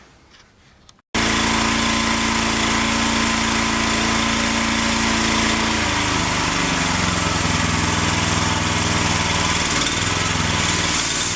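A loud sawmill engine starts abruptly after a brief quiet moment and then runs steadily, droning close by with a slight shift in pitch partway through.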